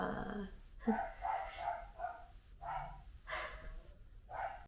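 Several dogs bark in short, irregular bursts, somewhat distant and muffled, with brief quiet gaps between barks.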